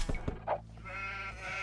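Sheep bleating in the Age of Empires video game, a short nasal bleat preceded by a few soft clicks, heard up close and alone.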